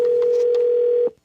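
A telephone in the Gabriel Knight 2 video game gives a steady, clear tone for about a second, then cuts off abruptly.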